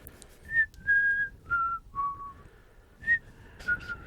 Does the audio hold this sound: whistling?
yes